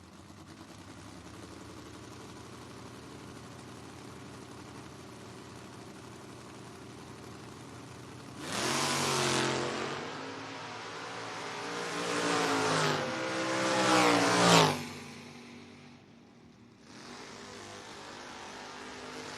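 Two drag racing cars, a Mustang and a car called the Grinch, launch at a footbrake drag race. A quiet stretch gives way to a loud roaring engine run with rising revs for several seconds, which drops off and then returns as a distant hum.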